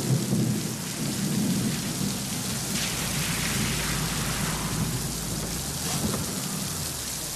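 Steady heavy rain pours down while a deep roll of thunder rumbles at the start and fades under the downpour.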